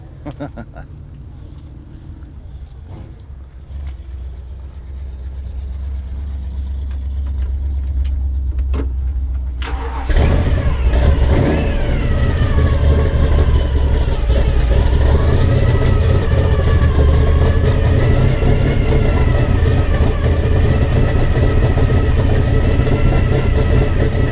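A 1976 Ford F100 pickup engine cranks and catches, then settles into a loud, uneven idle up close, with people talking quietly before it starts.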